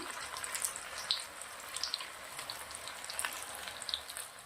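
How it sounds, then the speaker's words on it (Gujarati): Banana chaat tikki frying in hot oil over low heat gives a soft, continuous sizzle with small scattered pops and crackles, faint and steady throughout. "તેલ ગરમ જ છે. આપણે પાછા એને તળવા નાખી દઈશું."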